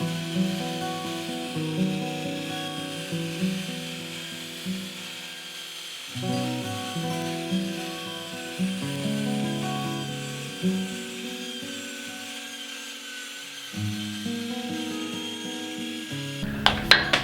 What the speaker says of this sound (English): I'm going to start sanding this.